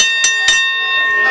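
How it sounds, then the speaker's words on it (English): Wrestling-match bell: two quick, bright rings at the start of the bout, close and loud, with a ringing tail and crowd ambience rising afterward. "There's the bell and the match is underway, and the Prophet of Pain getting in Ryan Wyl"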